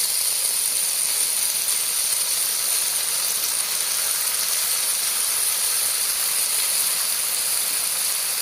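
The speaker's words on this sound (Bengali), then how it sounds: "ভেজে রাখা সবজি দিয়ে দিচ্ছি সবগুলো আরেকবার নেড়ে চেড়ে ভেজে নেবো" Fried dal and vegetables for khichuri with Gobindobhog rice hiss in a pan with a steady, unbroken sizzle that holds a constant level, close up and with no talking.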